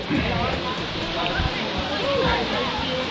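A low-flowing waterfall in the Silver River at Kaaimans Gorge gives a constant broadband rush of falling water, with faint voices and splashes mixed into the steady wash.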